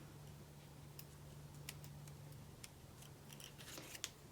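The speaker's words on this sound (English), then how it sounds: "I'm basically just going to cut skinny little pieces" Small scissors snip skinny pieces from foam Stampin' Dimensionals, a scatter of quiet, crisp clicks over a low steady hum, closer and quicker toward the end.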